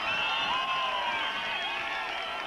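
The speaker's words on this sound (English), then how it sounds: "And the crowd coming to life now, the Moree Boomerang supporters." Supporters of the Moree Boomerangs cheering and roaring at a football match after a try in the corner, a steady dense crowd noise with whoops, sustained and fairly loud throughout.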